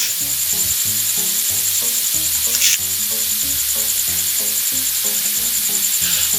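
Onions and garlic sautéing in margarine for pork caldereta, a loud, steady sizzle close up with soft stirring scrapes and clicks throughout.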